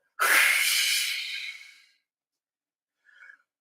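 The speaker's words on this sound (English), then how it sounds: "When you were starting your breathing activities, start with an exhale." A long, forceful exhale through the mouth opens a breathing exercise in a yoga-style practice, a breathy rush that fades over about a second and a half, followed after a pause by a brief faint breath sound.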